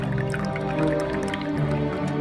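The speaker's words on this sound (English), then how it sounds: "Water is used as a timing mechanism in the machine." Water runs steadily into the timing vessel of a replica of Heron's water-timed thunder machine, a continuous close liquid filling sound with dripping and splashing over a busy mechanical background hum.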